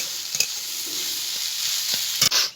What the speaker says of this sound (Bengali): এবারে মশলার সঙ্গে আমি ভালো করে কষে নেবো